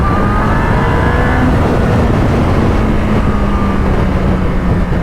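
A 1998 Yamaha R1 motorcycle accelerating hard along an open road, its engine a loud, steady, close roar with rising tonal whine held throughout, no voices.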